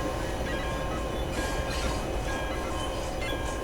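A train in the Train and Rail Yard Simulator game rolls along with a steady, dense mechanical rumble and faint rail clatter, loud and continuous without a break.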